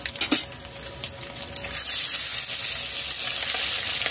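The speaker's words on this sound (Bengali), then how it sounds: "একটু নাড়াচাড়া করে নিলাম।" Ingredients for Bengali basanti pulao frying in a pan, a steady close sizzle with scraping stirring strokes, quieter at first and then filling out into continuous frying with no talk.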